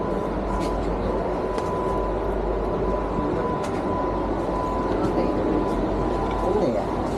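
Vande Bharat express train running at speed, a steady loud rumble and rush of rail noise heard from inside, continuous throughout with a faint hum and occasional clicks.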